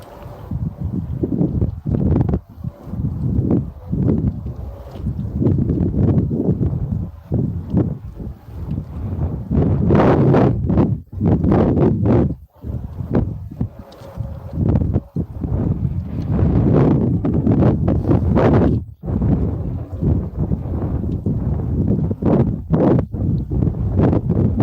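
Gusty wind buffeting across a big river after heavy snow, rough broadband roar rising and dropping in uneven surges with brief lulls, loud and close on the microphone.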